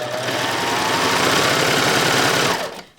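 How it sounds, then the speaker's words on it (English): Serger sewing machine stitching fabric for an infinity scarf, a steady rapid mechanical whir running continuously for a few seconds before slowing and stopping. "I'm just going to start sewing and remove my clips as I go along."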